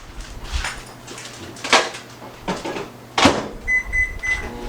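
Clicks and bumps of a microwave oven door and buttons come before its beeps near the end while butter is set to melt in a microwavable bowl, all close and fairly clear.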